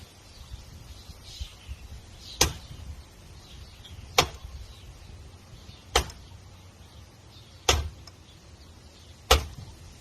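Five sharp, crisp whacks ring out as a Weltool W65B weapon light is struck against the inside of a door, evenly spaced under two seconds apart over a quiet background.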